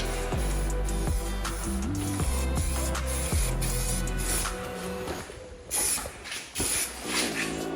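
Trim black coating hisses from a spray can onto a wrecked Mustang GT under repair, a loud close spray running in steady bursts over a low background hum, then giving way to sharper, broken hissing toward the end.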